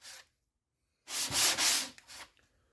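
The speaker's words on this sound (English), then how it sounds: "we want to sand our pad down smooth. So we just take our brake pad, run it across." A Mercedes-Benz AMG brake pad rubbed across sandpaper to smooth it: a short scrape, a pause, then a longer, louder abrasive stroke up close, with no talking.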